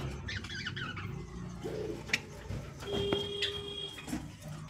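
Pet pigeons coo softly in a low, repeated murmur across a few seconds, with brief chirps and small knocks nearby against a steady background hum.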